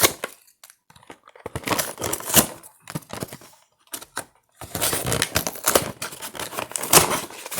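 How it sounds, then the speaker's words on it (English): Cardboard packaging for a sealed trading card product torn and pulled open up close, a run of crisp rips, crackles and snaps in bursts with short pauses, no talking. "Ah yes, the lovely sound of opening cardboard"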